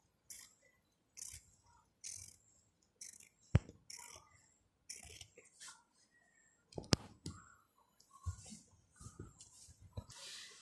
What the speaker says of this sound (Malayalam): ഇത് നമുക്കിനി കട്ട് ചെയ്തെടുക്കാം.